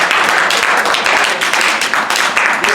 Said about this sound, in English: So let's give another round of applause to our amazing members.